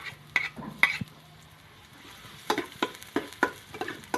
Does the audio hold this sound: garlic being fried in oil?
yes